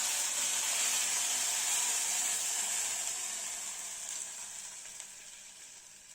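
A blended tomato and onion paste sizzles and fries in a pan over low heat while cooking a green gram dish, a steady close hiss that slowly softens and fades, with no talking.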